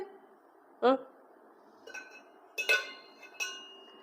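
A child handling kitchen vessels and a spoon in a hall, giving a few separate light clinks and taps of metal against metal, spaced apart and fairly close, over quiet room tone.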